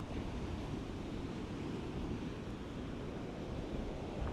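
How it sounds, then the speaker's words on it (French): Ocean waves wash steadily onto a beach on Koh Samui under red-flag conditions, a loud continuous roar of surf with wind buffeting the microphone throughout. "Et regardez-moi ces vagues."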